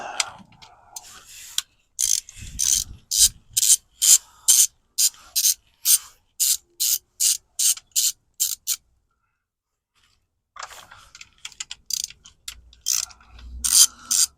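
A key wrench works bolts on a 2016 Toyota RAV4 XLE transmission pan, clicking in a quick ratcheting rhythm of a dozen or so sharp strokes, then falls silent before a few scattered clicks and metallic handling sounds.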